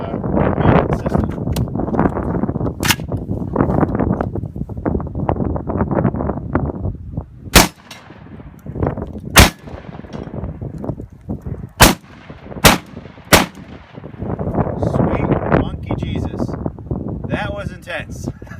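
Vepr 12 shotgun with a muzzle brake, fired from the shoulder outdoors: about six loud, sharp blasts at irregular intervals over wind noise, with a person talking throughout.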